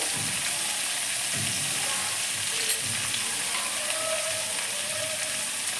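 Small whole onions and a few garlic cloves fry in a pan for a fish-head and mixed vegetable curry, giving a loud, continuous sizzle close by, with a few soft stirring scrapes underneath.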